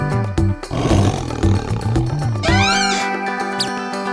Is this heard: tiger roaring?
yes